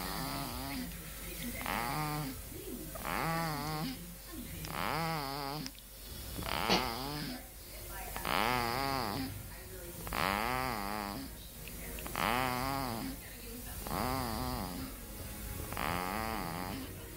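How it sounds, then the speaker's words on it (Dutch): A 2.5-month-old baby boy snores in a steady rhythm, about eight drawn-out breaths in 17 seconds, each one rasping and close by, with no talking over it. "en hij snurkt."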